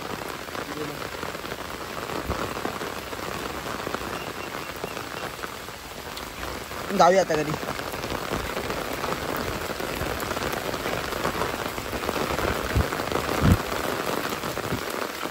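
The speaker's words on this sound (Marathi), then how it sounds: "पाऊस वाढलाय बघा कसला जबरदस्त" Heavy rain pours down steadily at a lake, a dense continuous hiss of drops striking water and ground close by, with brief voices talking over it near the middle.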